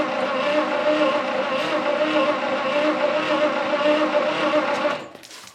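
A 1959 Studebaker Lark, sitting for 36 years, cranks slowly and steadily as it tries to start, with a continuous close, loud labouring engine drone that stops near the end.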